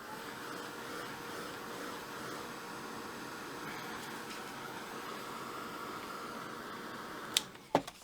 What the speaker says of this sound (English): this heat tool is not a really hot heat tool, it's a lower heat tool